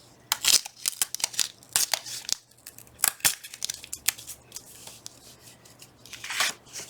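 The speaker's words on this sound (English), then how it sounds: "Might as well go all the way up and tear off that green too" A green paper page torn from a small pocket booklet, heard as a series of sharp, close paper rips and crinkles in irregular bursts over several seconds, with no talking.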